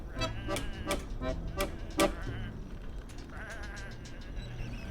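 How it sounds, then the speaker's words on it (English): Several sheep in the video game Whateverland bleat in a run of short, loud calls over a steady background hum, with quieter scattered bleats toward the end. "these are just sheep"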